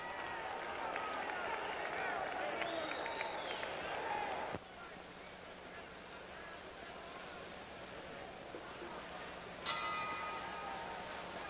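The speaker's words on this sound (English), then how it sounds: "There's the bell." Boxing ring bell at Madison Square Garden ending round one of a 10-round bout, a brief ringing tone rising over a roaring arena crowd, with a commentator talking throughout.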